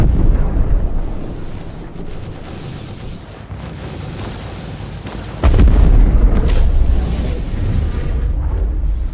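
Ship weapons and explosions in Star Citizen rumble and boom, with a sustained low roar that jumps to a heavier, louder blast midway and keeps thundering afterward.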